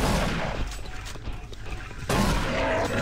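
Shotgun blasts in Doom 3 on Xbox 360: loud, close booms, one at the start and another about two seconds later, each with a rumbling tail. No one speaks.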